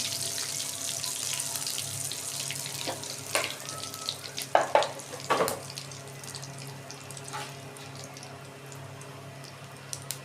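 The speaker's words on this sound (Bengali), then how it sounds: "তেল গরম হয়ে গেছে, এবার এতে জিরে দিয়ে দিলাম।" Cumin seeds hit hot oil and crackle in a short burst of sizzling pops, then settle to a softer, continuous hiss against a faint kitchen background.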